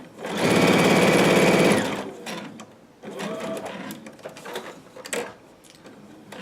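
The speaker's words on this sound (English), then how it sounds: "Down the side, stitching about, I like a fat 1/4 of an inch from the edge." A sewing machine stitches fabric about a quarter inch from the edge in a loud, fast, even burst of a little over a second, followed by quieter handling noises and shorter mechanical clicks.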